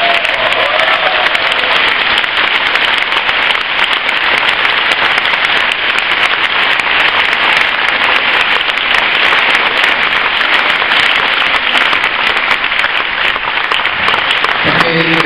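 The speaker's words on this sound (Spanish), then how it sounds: "se merece un fuertísimo aplauso." A crowd delivers loud, sustained applause at an event, a dense, even roar of clapping that holds steady for the whole stretch with no break before it cuts off at the end.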